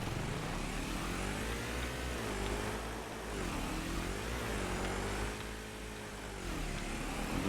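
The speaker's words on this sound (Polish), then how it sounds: "Jak zapalić silnik, jakoś sam się odpala." A tractor engine in Farming Simulator 25 runs at a steady, loud idle, its low mechanical drone rising and dipping slightly in pitch throughout, with no talk.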